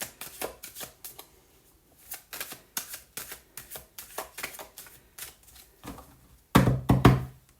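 Tarot cards are shuffled in quick repeated riffles and taps, each a crisp burst with short pauses between, ending in a louder thumping knock near the close.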